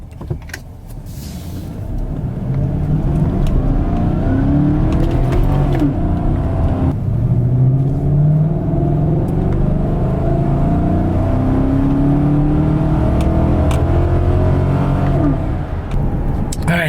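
A 2014 Chevrolet Silverado pickup engine fitted with an AIRAID cold air intake revs and roars steadily up close, rising and falling in pitch with a throaty intake growl, with brief clicks at the start.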